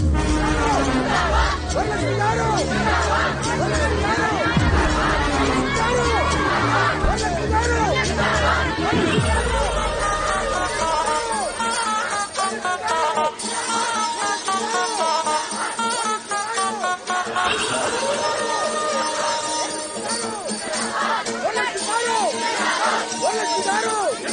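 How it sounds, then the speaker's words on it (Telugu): Noisy crowd of people in a courtroom, a dense babble of overlapping voices and chatter, loud and continuous, with some clearer nearby speech standing out. "ఒరే మన కోర్టు మొత్తం గోలగోలుగా ఉంది ఈ రోజు"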